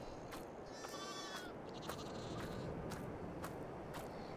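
Sheep on a Farming Simulator 22 farm bleat several times in a quiet game scene, short wavering calls over a faint steady background.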